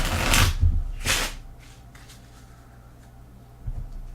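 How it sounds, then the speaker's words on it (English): A deck of cards for a Race for the Galaxy board game is shuffled in two quick riffle bursts, close and crisp, followed by quiet handling and a soft tap. "A little bit more shuffling."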